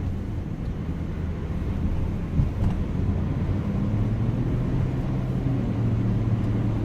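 Subaru Outback wagon on the road with a steady low drone and rumble of engine and road noise, a faint buzzy hum running evenly underneath, close inside the cabin with no talking.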